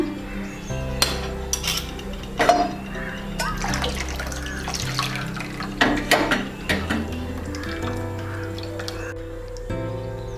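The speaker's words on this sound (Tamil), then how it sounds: "இதிலே தண்ணி விட்டு இன்னும் கொஞ்சம் ஃபில்டர் பண்ணி எடுத்துக்கலாம்." Water pouring and sloshing while pani puri water is filtered in a kitchen, with clinks of a utensil against a vessel, steady and close throughout.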